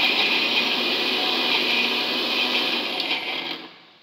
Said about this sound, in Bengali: এবার পেস্ট করে নিচ্ছি